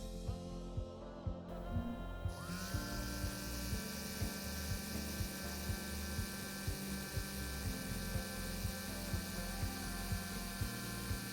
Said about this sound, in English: Listen to the sound the motor makes when rewinding.